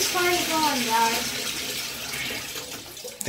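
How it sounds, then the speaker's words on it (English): Water runs steadily from a tap into a tub being filled for a small toy submarine, a continuous broadband rush with people talking over it near the start. "You think that's enough water? Yeah, let's keep filling it up."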